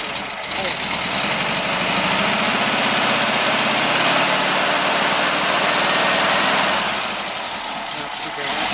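A car engine idling and lightly revved after an exhaust leak repair and an added baffle, a loud, steady rumble with a slow swell and drop in pitch near the end, with people talking over it.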